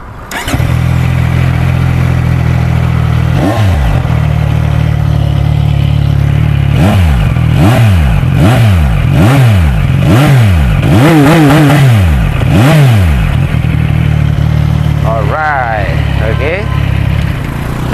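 A CFMoto 675NK motorcycle engine cranks, fires up and idles, then is revved hard several times in quick bursts before settling back to a loud idle.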